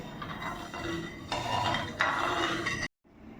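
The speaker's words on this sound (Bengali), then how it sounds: "এর মধ্যে আমি 2 চামচ চিনি দিয়ে একটু ভালো করে গুলিয়ে নেব, চিনিটা যেন গলে যায়।" A spoon stirs sugar into coconut water in a metal pot, scraping and clinking steadily with a few sharper knocks against the side, then stopping abruptly.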